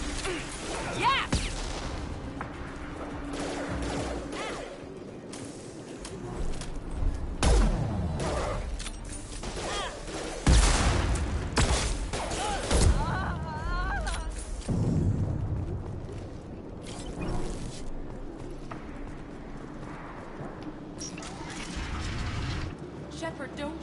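Mass Effect Legendary Edition combat: bursts of rapid gunfire, mechanical clatter and explosive booms come in uneven waves throughout, with in-game voices talking over the shooting.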